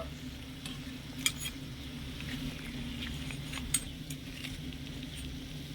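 Flour-and-sugar khaja pastries frying in oil, a soft, low, continuous sizzle with two sharp utensil clinks.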